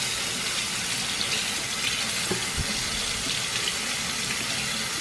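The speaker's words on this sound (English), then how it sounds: "let's just add some cold water" Cold water pours steadily from a tap, a continuous broadband rush that stays near and fairly loud throughout, with no talking.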